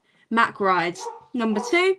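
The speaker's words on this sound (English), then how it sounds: "sorry if you can hear my dog barking" A pet dog barks near the microphone in a home, sharp yips mixed in with a person speaking over them.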